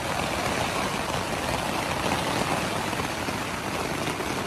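Heavy thunderstorm rain pounds a tent on the Continental Divide Trail, a dense, unbroken hiss heard from inside, with no distinct thunder or voices.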